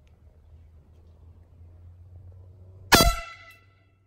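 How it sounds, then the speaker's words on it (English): An air horn goes off in one loud, sharp blast near the end. Before it there is only a faint low hum. "Pop the air horn."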